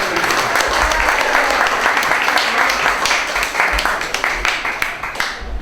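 Audience at a magic camp final performance gives a loud round of applause for a saxophone act, dense clapping that stays strong for several seconds and then thins into scattered claps at the end.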